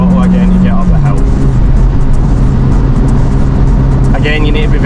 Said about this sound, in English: back on the throttle again to get up the hill